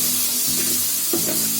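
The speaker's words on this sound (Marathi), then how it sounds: "आता त्याच्यामध्ये हा 1 चमचा व्हिनेगर टाकते." A spoonful of vinegar hits frying mushrooms in a pan, setting off a short bright sizzle and hiss over the steady frying, close and without talk.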